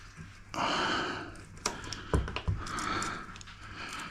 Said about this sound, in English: my dog snores in the background